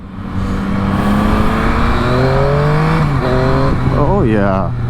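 A Yamaha motorcycle with a CP3 engine pulls hard through the gears, its rising engine note loud and close over steady wind rush, climbing in pitch with each shift and revving sharply near the end.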